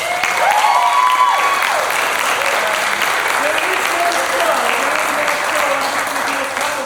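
Audience applause for performers at a new works musical cabaret at Theatre Arlington, a sustained dense wash of clapping filling the room, steady and loud throughout with faint voices and whistles mixed in.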